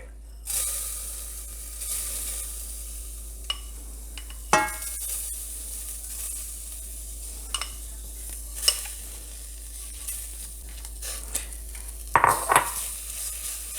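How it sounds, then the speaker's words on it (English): Dry quinoa toasting in a warm pot, stirred now and then with a utensil: sharp scrapes and clinks scattered over a steady low sizzle and hiss, close by, with no voices. "we're going to stir it around a bit and let it get nice and toasty"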